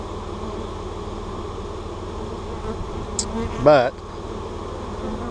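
Bees hum steadily around a hive box in a field, a continuous close drone with a brief louder pass of one bee near the end, while someone speaks briefly.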